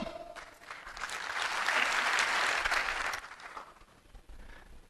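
An audience at a network marketing training seminar claps together on cue, a single burst that swells to a loud dense peak and then fades, followed by a weaker scattered patter.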